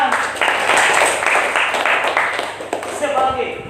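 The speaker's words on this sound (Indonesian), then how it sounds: "Oke, tepuk tangan." A class of students applauds in a classroom, a dense burst of many hands clapping at once that runs for a few seconds, with voices talking over and around it.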